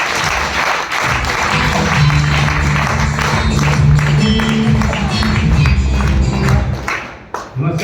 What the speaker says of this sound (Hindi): इनके सम्मान में ताली होनी चाहिए जोरदार।